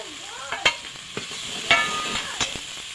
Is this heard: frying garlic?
yes